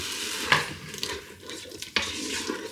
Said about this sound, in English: Give it a brilliant stir.